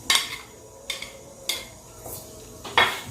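Raisins are added to fruit chaat in a serving dish, giving a handful of sharp, light clinks of a spoon against the dish spaced about half a second apart, close and fairly quiet.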